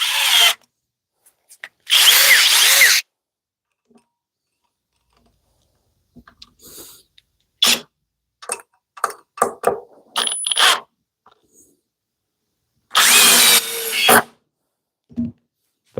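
Cordless impact drivers from Flex, Dewalt, Milwaukee and Harbor Freight driving screws: a few loud bursts of whirring and hammering, with clicks, clatter and short mechanical taps between them, near and without talk.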